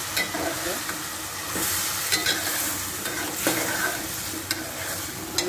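Taro and prawns stir-fried in a pan, a steady close sizzle and frying hiss with repeated scraping stirs and light clinks of a utensil throughout, no voices.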